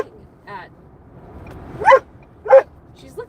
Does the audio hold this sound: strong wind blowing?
no